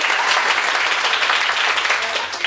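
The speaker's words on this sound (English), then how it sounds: "Okay, round of applause, thank you." A classroom of students gives a round of applause during English teacher training, a dense, steady wash of clapping that stays loud and close for the whole stretch and fades slightly at the end.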